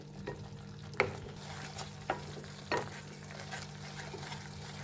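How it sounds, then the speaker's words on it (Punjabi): Tomato chutney cooks in a pan with a steady low sizzle, broken by a few sharp clicks and scrapes as a spoon stirs it, all close by with no voices. "ਹੁਣ ਆਪਾਂ 2-3 ਮਿੰਟ ਇਹਨੂੰ ਪਕਾਵਾਂਗੇ"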